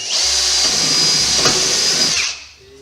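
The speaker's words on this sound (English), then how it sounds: "take our drill, find a good spot in the corner," A power drill bores a hole into rusty car body metal near a corner, whirring loud and steady for about two seconds before winding down and stopping.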